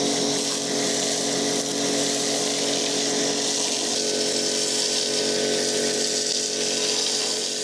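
A snow foam lance sprays foam over a child's scooter, a loud continuous hiss and pump drone that stays steady and close throughout, with no voices.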